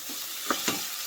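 Cumin seeds and tomatoes sizzle in hot oil for aloo bharta, a steady frying hiss with two short stirring clanks close by.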